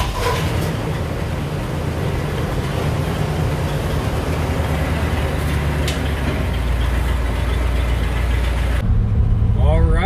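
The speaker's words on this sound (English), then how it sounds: "this thing is just a totally different vehicle the way it idles" A 1959 Cadillac V8 idles smoothly and steadily after new spark plug wires and an ignition upgrade, a loud, even low rumble filling the clip before shifting slightly near the end.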